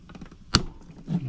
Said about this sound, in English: Just a quick snip and they should be off.